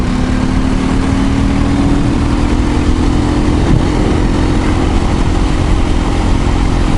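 An SWM RS650R motorcycle engine pulls hard in top gear, a loud continuous drone with a steady rising engine tone under heavy wind rush, no voices.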